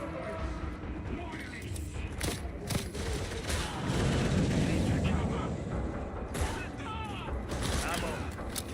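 A sniper and other guns fire in a Warhammer 40K Darktide Hive Scum mission, loud cracking shots and sustained volleys in a busy firefight, with voices over the shooting.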